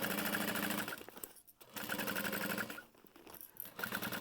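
A sewing machine stitches quilted fabric shut in fast, buzzing runs, close and steady, with two brief pauses where the motor stops before starting again.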